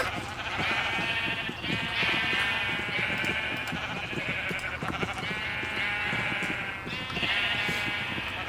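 A crowd of sheep in the video game Minecraft bleats nonstop, with many loud, overlapping calls blending into a dense chorus and no talking.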